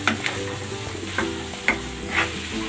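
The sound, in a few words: pork ribs with corn sautéing with green onion leaves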